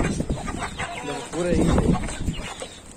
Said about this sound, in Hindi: अले पूरे मुर्गे इधर उधर है